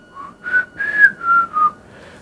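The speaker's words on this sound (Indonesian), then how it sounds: "Dan si suara ini terus bersiul." A thin, wavering whistle rises and falls in five short connected notes, clear and close against silence, with an eerie tone.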